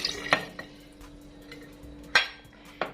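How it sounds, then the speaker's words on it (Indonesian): A glass jar holding drinking water is shaken and knocked about, giving a few sharp, irregular clinks and clatters over a quiet background. "Ini sambil kita kocok-kocok ya toplesnya pakai air."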